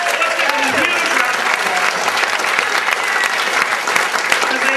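Loud sustained applause from a comedy club audience at a live stand-up event, dense clapping mixed with some cheering voices throughout.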